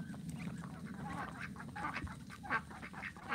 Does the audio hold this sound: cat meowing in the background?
no